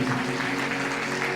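A congregation at a sermon clapping loudly and steadily, a dense, continuous wash of applause filling the whole moment.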